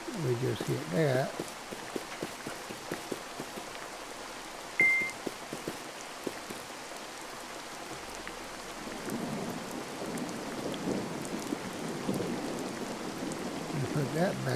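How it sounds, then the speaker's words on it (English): Steady rain patters down in the video game CrossWorlds: Escape, a continuous wash of drops that thickens toward the end, with scattered clicks and a brief tone over it. "Yep, and while it's raining,"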